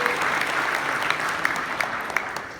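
A room of attendees at a business meeting applauds executive team members, dense sustained clapping with a few louder near claps poking through, even in level throughout.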